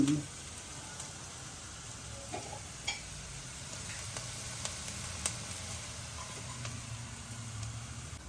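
Coriander and poppy seeds roasting in a pan give a steady, faint dry sizzle and crackle throughout, with a few scattered light ticks and no voices.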